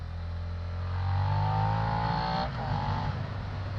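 Steady engine drone from a Suzuki SV650 motorcycle on the move along a road, rising slightly in pitch under light throttle with wind noise, heard continuously at moderate level.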